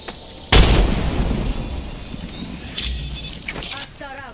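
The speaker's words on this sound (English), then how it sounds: "Tossing a frag." A frag grenade in Apex Legends bursts with a sharp loud boom and a rumbling tail, followed by a second thud and brief crackles while a voice talks over it.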